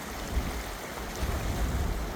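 A steady, full-bodied rush of water pours from the Clearwater Lake Dam spillway in Missouri, constant and unbroken, with some wind buffeting the microphone and no voices.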